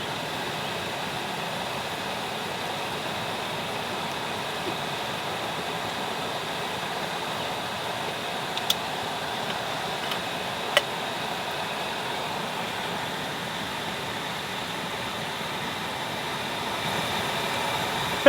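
A camping stove burner boils water in a tent in the rain, roaring with a steady, even, jet-like hiss that holds constant throughout, broken only by a couple of faint clicks.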